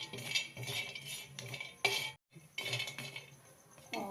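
Soybeans roasting in a pan, stirred with a utensil that scrapes and clinks against the metal in quick, uneven strokes, close and fairly quiet, with a brief pause partway through.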